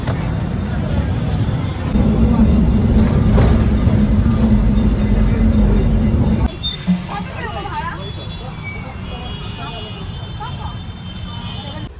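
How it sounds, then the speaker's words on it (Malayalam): Riding in the second car of a Kolkata tram, a loud steady rumble of the carriage fills the first half, then a quieter rattling ride follows, with people talking over it. "ഇത് ട്രാമിൽ സെക്കൻഡ് ബോഗി കേട്ടോ."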